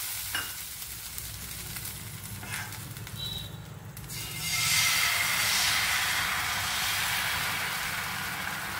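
Water splashed onto a hot iron dosa pan hisses into a broad sizzle that swells midway and holds steady, close and fairly loud, with no talking.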